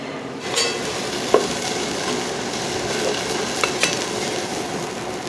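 Okonomiyaki cooking on a large iron griddle in a cheap Nagoya okonomiyaki shop, a continuous close sizzle with occasional small clicks of spatulas against the metal.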